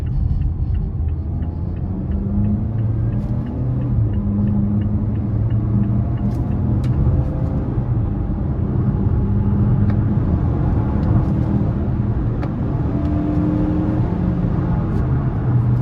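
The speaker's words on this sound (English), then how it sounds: "when I floor it, it downshifts by itself" Engine of a 2022 Mazda CX-5 S Carbon Edition AWD with the 2.5-litre four-cylinder, heard from inside the cabin as a steady, loud low rumble and drone under hard acceleration, with road noise and no talking.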